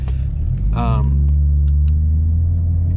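Deep titanium exhaust rumble from a 2017 BMW M240i idling steadily and loud, with a brief rising rev and some voices in the background.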